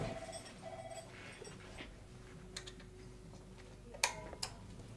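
A race bicycle's spinning wheel gives off a soft, steady ticking while its disc rotors are checked for rubbing, followed near the end by a couple of sharper metallic clicks. The sound is quiet and close, with no voices.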